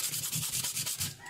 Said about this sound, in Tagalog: sandpaper para linisin yung kanyang copper